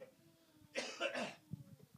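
A single short, raspy cough close to the microphone, a brief burst following a quiet pause.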